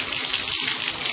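Water turning on in a video game set around a toilet, a steady loud hissing gush running throughout the short stretch.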